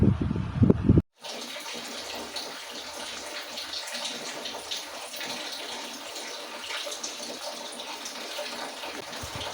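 Blanched bok choy is lifted out of a pot of hot water, with a brief louder clatter and then steady, close splashing and dripping as the water runs off the leaves.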